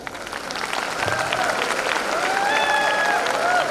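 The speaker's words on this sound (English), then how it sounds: "they need an applause." Audience applause at a medical college graduation ceremony, a steady crowd of clapping hands that swells and holds, with faint whistles or cheers rising over it near the end.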